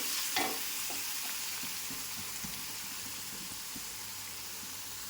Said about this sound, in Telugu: ఇలా కొంచెం ఎరుపు రంగు వచ్చేంత వరకు వేపుకోవాలి